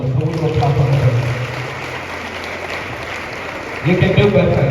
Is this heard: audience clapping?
yes